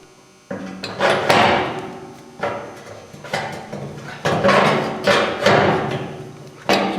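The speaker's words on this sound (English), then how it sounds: "Right now I'm just using a crescent wrench." A crescent wrench works on a gooseneck trailer fender, giving repeated loud metallic knocks and clanks close by at an uneven rhythm.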